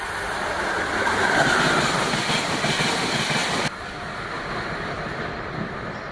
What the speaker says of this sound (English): So that was a train.